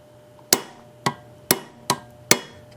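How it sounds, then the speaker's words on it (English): Aluminum rivets being hammered out of a Brownwall hit-and-miss engine during restoration: five sharp, close metallic blows at an irregular pace, each ringing briefly before the next, with no talk. "These are aluminum rivets, so it should pop right out of there."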